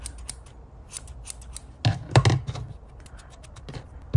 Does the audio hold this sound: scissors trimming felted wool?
yes